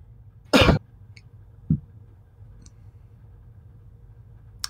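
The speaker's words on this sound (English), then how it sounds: "I can hear him coughing" A man coughs over a phone line in one loud, harsh burst, followed a second later by a shorter throat-clearing cough, then quiet line hiss with a faint click at the end.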